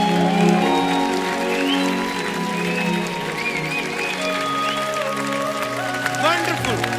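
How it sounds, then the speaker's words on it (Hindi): Enthusiastic audience clapping for Purvi on a studio comedy show stage, a steady crowd patter mixed with music and voices. "एक बार जोरदार तालियां पूर्वी जी के लिए"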